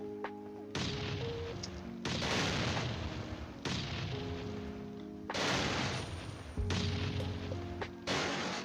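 Repeated heavy explosive blasts against a wall in the survival game Last Island of Survival, about five loud booms in quick succession, each with a sharp crack and a short rumbling decay.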